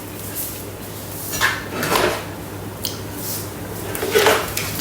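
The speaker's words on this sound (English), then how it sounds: "I'm just going to put the lid on." Clattering plastic and metal knocks as the lid is fitted onto a Thermomix bowl, several scraping clunks over a steady low kitchen hum.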